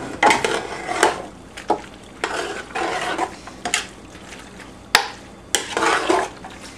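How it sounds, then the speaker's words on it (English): A spoon scrapes and knocks through eggplant, vegetables and spices in a hot pan for baingan bharta, giving a steady run of stirring scrapes with soft sizzling underneath and a few sharp clinks against the pan. "And stir everything together,"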